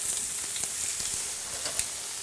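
Beef steak cooked very rare sizzles steadily on a hot griddle, a continuous close hiss with scattered crackles and pops and no one speaking over it.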